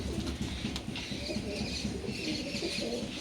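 Ablook pigeons cooing nearby, soft repeated low coos with faint rustling and a few brief chirps under a steady background.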